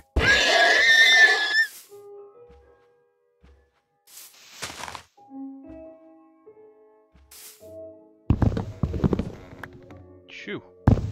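A Minecraft horse whinnies loudly at the start, a harmonic neigh lasting over a second, followed by quieter in-game clatter, hoof thuds and scattered blocky sound effects.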